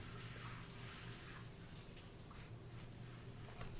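Steady hiss of a running shower in the game Life is Strange, a continuous wash of falling water with a low hum underneath, held at an even level without pauses.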